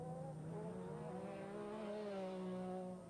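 A rallycross car engine, MG Metro 6R4 or Ford RS200, drones at high revs with pitch gliding up and down, steady and fairly distant, during qualifying at Lydden.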